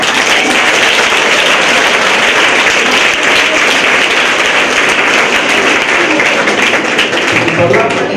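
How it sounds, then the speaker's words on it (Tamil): Audience applause at a career guidance exhibition and seminar: a dense, steady wash of many hands clapping, loud and close, holding evenly for the whole stretch with no voices standing out. "கை தட்டுறது உண்மையில ரொம்ப பெருமையா இருக்கும்."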